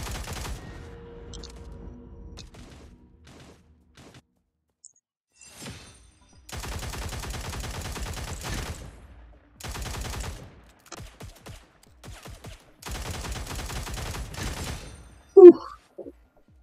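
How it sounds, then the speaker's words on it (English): Gunfire in a battle royale video game: rapid bursts of automatic fire in several loud clusters, with a sharp single report near the end, over a quiet game background. "Here's some gunshots."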